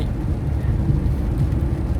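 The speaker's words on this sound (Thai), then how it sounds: "ฝนกำลังตกนิดหน่อย" Steady, soft rain falls on a drive to visit a friend, a continuous low hiss and patter that fills the background with no voices.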